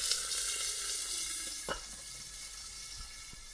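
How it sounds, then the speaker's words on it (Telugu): Cabbage snack patties frying in a pan, a steady close hiss and crackle of oil with a soft tap or two of a utensil, no voices. "ఇప్పుడు ఇవి 2 సైడ్స్ ఫ్రై అయినాయి."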